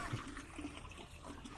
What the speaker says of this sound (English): As all of the extra water drains down into what you can only assume is the wasteland